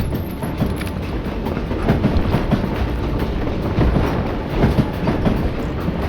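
A moving train in the Western video game Call of Juarez: Gunslinger, giving a steady, loud rumble of rolling railcars with faint clickety-clack wheel rhythm throughout, without any voices.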